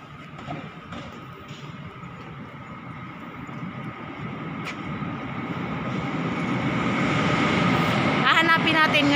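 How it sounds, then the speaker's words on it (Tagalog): A commuter train pulls into a station platform, a broad rumble that swells steadily louder toward the end, with brief squeal-like tones near the close and people talking in the background. "Nandiyan na yung tren."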